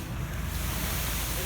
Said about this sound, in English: The pipes are making a whooshing sound because they're starting to pour more concrete over there.